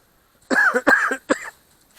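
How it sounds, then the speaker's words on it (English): Three harsh coughing bursts in quick succession, close by and fairly loud, then quiet. "Still coughing on and off."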